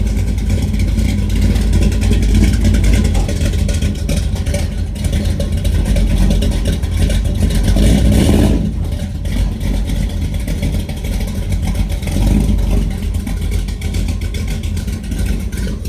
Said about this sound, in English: I said it's probably the most aggressive sounding small block truck we have that's not a race car.